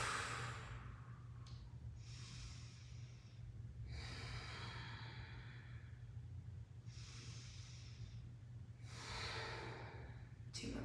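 Slow deep breaths during a yoga cow pose, a series of soft, airy inhales and exhales spaced a couple of seconds apart over a steady low background hum.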